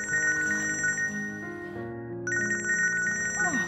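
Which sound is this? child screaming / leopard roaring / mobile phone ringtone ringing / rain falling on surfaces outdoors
mobile phone ringtone ringing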